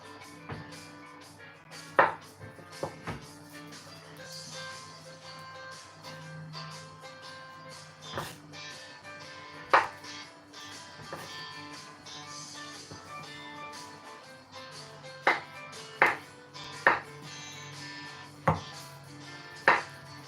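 Knife chopping on a wooden chopping board while preparing Nigerian party jollof rice, a scattering of sharp, separate knocks spread across a quiet kitchen background, some louder than others, with no voices.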